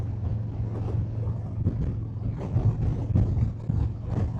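Steady low motorcycle engine rumble with a droning exhaust tone, mixed with rushing wind noise buffeting the microphone throughout.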